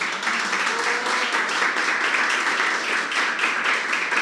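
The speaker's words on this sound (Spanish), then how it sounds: "Si puedes darle un aplauso a Dios." A church congregation applauds during a sermon, steady dense clapping that holds at an even level throughout, with faint voices mixed in.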